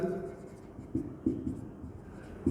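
Soft scratchy strokes of a pen ruling a line on paper in an accounting lesson, a few faint scrapes while a teacher speaks quietly in the background.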